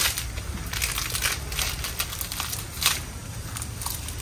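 Bamboo leaves are stuffed and pressed into the open top of a bamboo pole filled with rice pulao, giving close, repeated crunching, rustling and crackling with sharper snaps scattered through.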